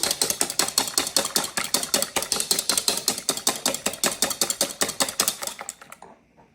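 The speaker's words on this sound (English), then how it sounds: "So the 4 eggs are already in the bowl. So let me just whisk them." Four eggs are whisked in a bowl for crepe batter, a fast and even clatter of strokes running close and loud for several seconds before it stops.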